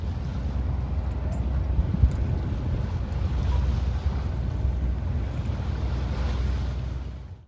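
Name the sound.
sailboat S/V Quetzal underway leaving Block Island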